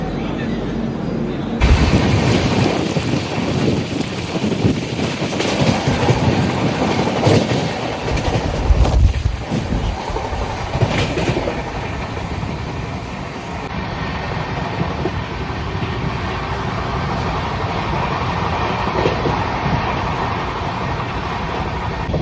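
A passenger train on an Indian railway journey toward Delhi through Haryana rumbles along the rails with a continuous loud roar and faint clatter, close and steady throughout.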